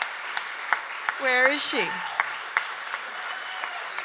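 Festival audience at the Acadia Trad Festival Spirit of Trad award clapping, a swell of applause near the middle with scattered individual claps before and after, while a voice speaks over it.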